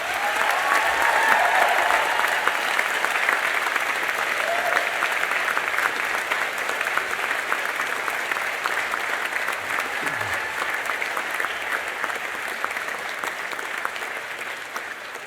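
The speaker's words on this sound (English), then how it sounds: "I would now ask you to show your applause to those who have supported you throughout your academic career" A large audience at an Ulster University summer 2017 graduation ceremony in Belfast applauds supporters with dense, steady clapping that carries on unbroken for the full stretch, spacious and evenly loud throughout.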